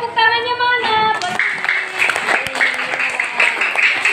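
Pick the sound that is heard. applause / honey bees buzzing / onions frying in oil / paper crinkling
applause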